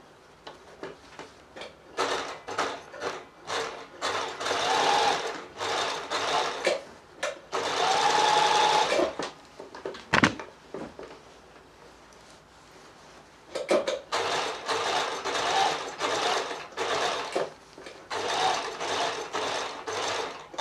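A sewing machine stitches decorative seams while repairing a broken zip on a pair of jeans, running in several rapid whirring bursts of a few seconds each, separated by quiet pauses and one sharp mechanical clunk, close and clear.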